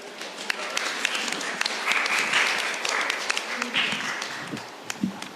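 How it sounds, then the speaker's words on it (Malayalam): Scattered clapping from a church gathering at a Christmas carol night welcomes Santa Claus, a moderate, uneven patter with a few sharper claps and light background voices. "നമുക്കെല്ലാവർക്കും കൈയടിച്ച് സന്തോഷത്തോടെ അദ്ദേഹത്തെ സ്വീകരിക്കാം"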